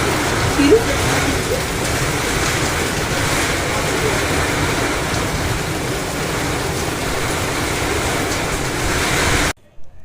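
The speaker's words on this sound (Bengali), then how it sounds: "আমাদের তো টিনের চাল, আর টিনের চালের মধ্যে টাং টুং করে কি শিল পড়ছিল আর খুব আওয়াজ হয়" Hailstorm with heavy rain pounding a tin roof, a loud, dense, continuous roar that holds steady for nearly the whole stretch before stopping abruptly.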